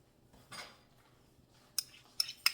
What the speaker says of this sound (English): I can scrape every little last bit out of it